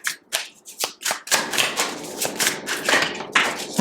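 Tarot-style oracle cards are shuffled by hand, first in a few sharp separate flicks and then in a dense, continuous riffling clatter close up, with no voices.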